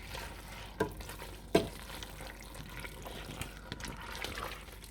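Fettuccine Alfredo with mushrooms simmers in a pan after water is added, giving a soft continuous sizzle and bubbling with a few scraping stir clicks, close and quiet, without talking.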